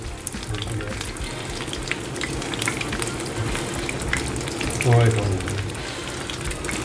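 Fish for fish and chips fries in hot oil, giving a continuous crackling sizzle close by, with a brief louder burst of bubbling partway through.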